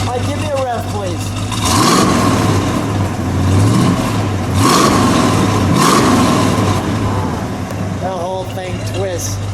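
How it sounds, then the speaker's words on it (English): A 1969 Dodge Charger Daytona with a 440 engine idles, then gets revved twice in strong rising and falling bursts, close by, with people talking over it. "Mike, give me a rev, please."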